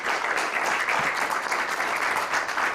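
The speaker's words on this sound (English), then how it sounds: "Let's give all 6 teams a big round of applause" Audience clapping for six teams at a 2019 infrastructure scholarship competition, a steady, full round of applause from a room of people that holds evenly for the whole stretch.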